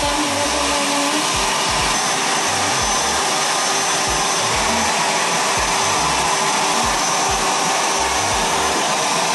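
Hair dryer drying freshly dyed black hair, a loud, constant close-up roar of fan and airflow that never lets up, with faint low thumps underneath.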